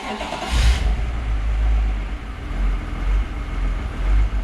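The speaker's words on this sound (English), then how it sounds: "we're gonna start the car for the first time" A BMW E46 330ci with a newly installed M3 competition clutch starts for the first time after repairs, cranking briefly, catching with a deep rumble, then idling and revving unevenly nearby with a hesitant, surging low drone.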